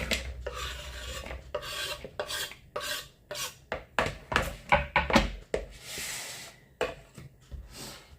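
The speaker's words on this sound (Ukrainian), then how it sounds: "Натираю сюди морку на крупну терочку." A carrot being grated on a coarse grater in a home kitchen, producing repeated rough rasping strokes in an uneven rhythm, close and crisp, speeding up into quick bursts toward the end.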